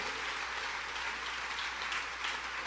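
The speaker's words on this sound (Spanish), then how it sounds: "Le das un aplauso al Rey" A church congregation applauds during a sermon, giving dense, continuous clapping from many hands that stays fairly even and moderately loud for a few seconds, with no speech over it.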